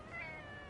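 A single short cat meow, clear and close, with a slightly electronic, game-like quality, from the video game Spider-Man 2.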